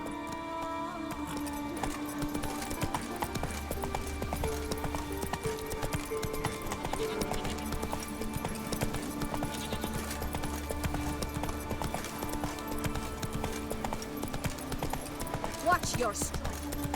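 In-game galloping hooves of Roach the horse from The Witcher 3, a continuous rhythmic clip-clop at a steady pace under background music, with someone speaking over it.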